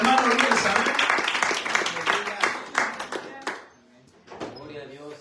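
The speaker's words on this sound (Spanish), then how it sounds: "hay una fuerte ofrenda de palmas al Señor" A church congregation breaks into loud clapping as an offering of applause to the Lord, with mixed voices and shouts over it; the clapping fades out near the end, leaving quieter sounds.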